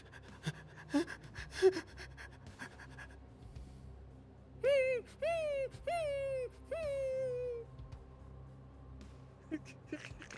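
A person imitating panting, giving four quick, breathy, voiced huffs in a row, fairly close and moderately loud, preceded by faint rustling and small vocal noises.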